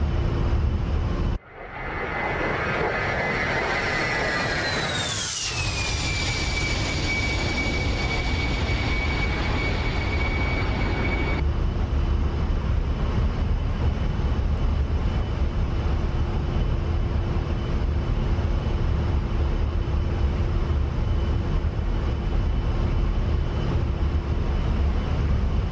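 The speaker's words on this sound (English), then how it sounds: "Let's get a little flyby of the A-10 coming by." A-10 jet flyby in the DCS flight simulator game: a loud, roaring engine whine that rises and then drops in pitch as it passes, followed by a steady droning rumble, no talking.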